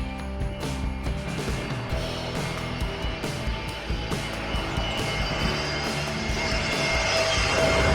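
An Airbus A320 passes close by at Katunayake airport, its engine roar a steady, broad wash of noise that swells louder toward the end, with no voices.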